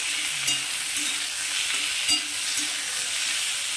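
Large chunks of tomato fry in a pan with green banana and potato for a rohu fish curry, giving a steady hiss broken by a few clinks of the stirring spoon, with no voices.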